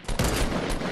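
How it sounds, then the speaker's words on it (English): Rapid close gunfire in a Fortnite battle royale match, a loud burst of several shots in quick succession. "I shot him twice."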